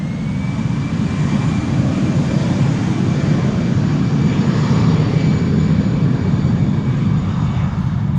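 Austrian-registered 16-year-old Airbus A319 at Amsterdam Schiphol Airport, a loud steady engine roar with a thin whine on top, holding constant throughout with no talk.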